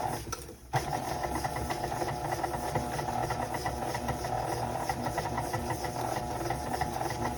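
An electric mixer beats granulated and brown sugar until light and creamy, a continuous close motor whir that runs steadily after a brief dip at the start.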